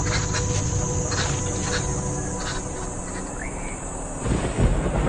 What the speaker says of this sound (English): at long last, distant thunder signals a welcome transformation